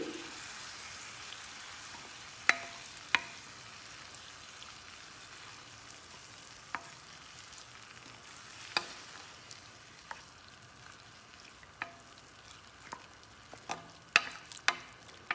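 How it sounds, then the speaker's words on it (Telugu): Pieces of ridge gourd simmering in milk in a pan give a soft steady bubbling hiss, broken by scattered faint pops and clicks, with no voices. "బీరకాయ ముక్కల్ని రెండు మూడు నిమిషాలు పాలల్లో ఉడికించుకోవాలి"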